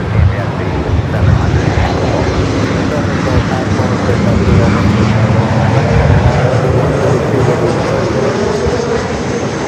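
An airliner landing at Los Angeles airport makes a loud, steady roar of jet engines and rushing air that holds for the whole stretch without a break.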